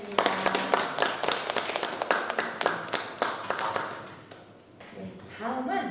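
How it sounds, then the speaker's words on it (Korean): An audience at a youth book concert claps for a haegeum performance and poetry reading, scattered sharp hand claps that thin and fade out before a few softer sounds at the end. "두 분께 다시 한번 박수 부탁드리겠습니다"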